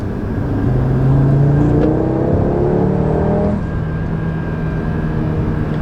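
An Audi RS3 driven in sport mode holds its gear as the engine note climbs steadily under acceleration, then eases off to a lower drone, heard from inside the car without talk.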